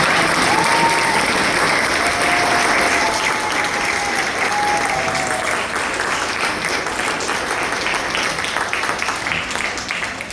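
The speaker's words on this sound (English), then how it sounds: "let's have a big round of applause to congratulations" Sustained, dense applause from an audience at an Eagle Scout Court of Honor, steady and loud throughout, with a few faint voices rising above the clapping.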